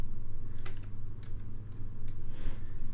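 Computer keyboard key presses during software editing work: a handful of separate crisp clicks spaced irregularly over a steady low hum, close and fairly clear.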